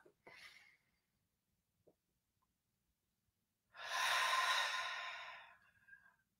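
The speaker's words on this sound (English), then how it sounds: "Take a deep inhale and exhale." A person takes a short, quick inhale, then after a pause releases a long, deep, audible exhale through the mouth, close and breathy, with silence in between.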